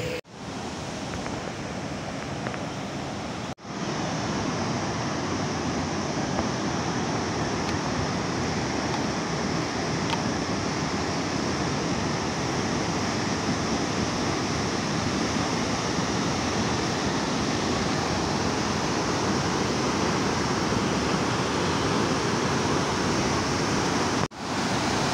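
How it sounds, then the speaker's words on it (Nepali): Small hydroelectric turbine at Philim in Nepal's Manaslu region spins with stream water diverted from a dam, giving a loud, steady, unbroken roar of rushing water for the whole stretch, with no voices. "अहिले चाहिँ बिजुलीको चाहिँ टर्बाइन घुमिरहँदाखेरि चाहिँ को चाहिँ आवाज सुन्न सकिन्छ"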